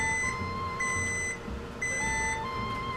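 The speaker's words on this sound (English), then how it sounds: "looks like the timer's done" A kitchen timer beeping while jambalaya cooks, sounding repeated bursts of rapid high-pitched beeps with short pauses between groups over a low background hum.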